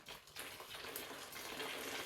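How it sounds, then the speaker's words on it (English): Water pouring steadily into a container of fabric dye, a continuous broadband gushing rush like a running tap, close and fairly quiet, with no talking. "let's just put some more water in there."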